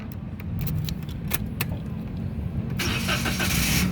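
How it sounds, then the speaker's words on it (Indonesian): A 2014 Toyota Agya 1.0 TRD Sportivo automatic is started after a jangle of keys at close range; a steady engine hum runs underneath and the engine catches and rises to a louder, brighter idle near the end. "sekarang kita coba nyalakan mobil"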